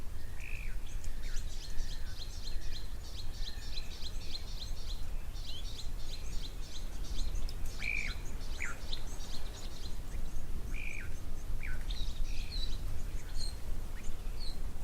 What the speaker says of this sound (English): the little blue waxbills and the chin-spot batters are here somewhere near to the camera, probably in the thickets